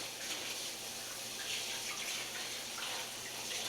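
Tap water runs steadily into a sink while an old wiper blade is washed with dishwashing detergent. The splashing is continuous and fairly soft, with no talking.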